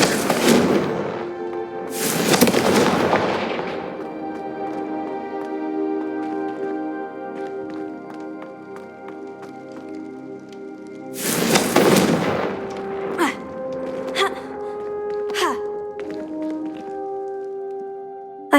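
Fire spell blasts from Hogwarts Legacy: three loud fiery bursts, two close together at the start and one later, each ringing out over a sustained musical score with sparkling chimes between.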